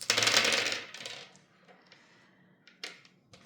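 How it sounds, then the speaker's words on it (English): Dice clatter loudly as they are rolled and tumble across a table during a board game, then settle, followed by a few lighter clicks and taps of pieces. "So again, I roll my dice."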